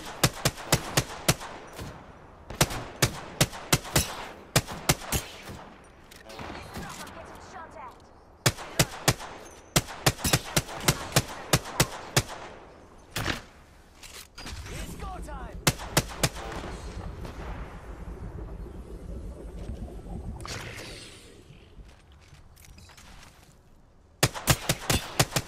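Gunfire in Apex Legends, Season 10, played as Octane: rapid loud bursts of shots repeat through the stretch, with a sustained rumbling roar in the middle before the shooting resumes.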